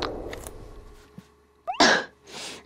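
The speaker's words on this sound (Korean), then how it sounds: "재채기와 콧물 때문에 두 문장도 연이어 읽지 못하는" A single sharp sneeze bursts out from an allergy sufferer in an indoor setting, preceded by a short gasping intake and followed by a softer breathy exhale, all close and fairly loud.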